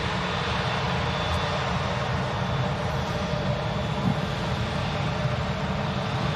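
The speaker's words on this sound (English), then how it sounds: "EasyJet on the roll" An EasyJet airliner on its takeoff roll at Manchester Airport gives a steady, fairly distant broadband rumble and roar that stays even throughout, with no voices.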